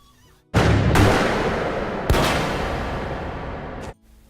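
Gunfire in a vampire film: two loud, sharp blasts, each leaving a long, reverberant decaying roar, followed by a sudden cut to near silence.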